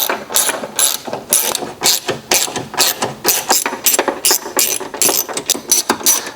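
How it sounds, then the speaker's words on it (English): A hand ratchet with a 10mm socket tightens bolts on a tow mirror being fitted to a Chevy Silverado or GMC Sierra, making a rapid run of sharp, close clicking bursts in an uneven rhythm, loud and alone. "Now we need that number 10 socket at 10mm to drive them home."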